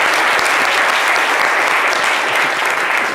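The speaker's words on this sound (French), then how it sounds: "Est-ce qu'on peut applaudir?" Loud, dense audience applause fills the whole stretch, steady and close with no pauses, from a crowd at a live radio show.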